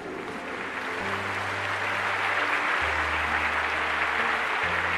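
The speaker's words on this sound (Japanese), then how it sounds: "万雷の拍手の中" Thunderous applause from a large planetarium audience fills the space, a dense continuous roar of clapping hands that holds steady and loud throughout, with a low sustained musical tone underneath.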